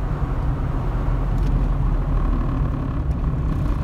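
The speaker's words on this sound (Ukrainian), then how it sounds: "Але машинка нормально розвиває скорість." A car's engine and road noise drone steadily at speed on the move, a dense low rumble throughout with faint rattles, no speech, in a car fitted with an electric fuel pump.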